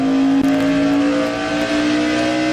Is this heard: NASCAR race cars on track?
yes